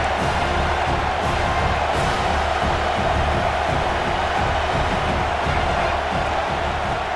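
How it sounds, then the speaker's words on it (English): Stadium crowd roaring steadily in EA Sports College Football 26, a dense, continuous wash of cheering and noise that stays level throughout with no clear speech over it. "this crowd is turning it up a notch."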